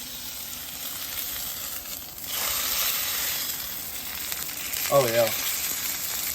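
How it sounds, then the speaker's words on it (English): Picanha beef fat cap charring around the sides on a very hot griddle after smoking, giving a steady close sizzle and hiss, with a brief spoken remark near the end. "Charring that fat up around the sides"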